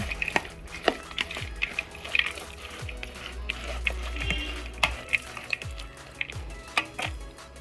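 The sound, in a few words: stirring boondi with sugar syrup, cashews, raisins and cardamom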